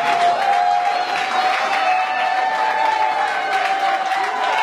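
Guests at a 60th birthday party applaud and cheer together, a steady wash of clapping and crowd noise that holds at a fairly loud level throughout.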